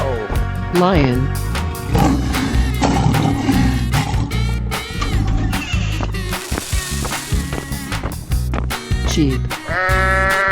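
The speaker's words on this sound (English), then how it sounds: "Sheep." A sheep bleats in a 3D animal slide game, with wavering bleats rising over busy game music, roars and sliding effects, all loud and close, while a voice speaks briefly.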